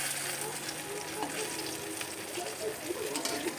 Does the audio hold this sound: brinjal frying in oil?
yes